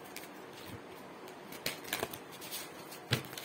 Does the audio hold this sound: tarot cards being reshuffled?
yes